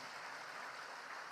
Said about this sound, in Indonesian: Tepuk tangan untuk PKS.